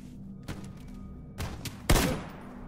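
Video game gunfire: several short bursts of shots ring out, building to a louder, heavier burst near the end, set against a low steady background hum.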